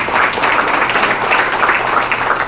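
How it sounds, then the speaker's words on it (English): A crowd at a community forum gives a dense, steady round of applause, loud and close, filling the whole stretch without any break. "please give him some encouragement with a round of applause"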